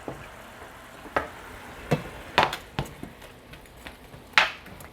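Shrimp scampi with garlic and dried parsley being stirred in a pan, giving scattered scraping and clinking hits at an irregular rhythm over a soft, steady sizzle, close by with no talking.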